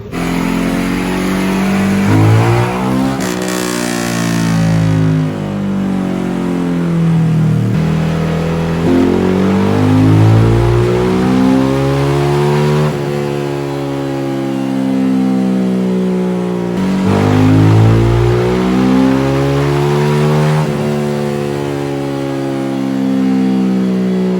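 A Honda Supra X 125 motorcycle engine, bored up to 150cc, revs loud and close, its pitch climbing and dropping across several repeated throttle blips with idle stretches between them.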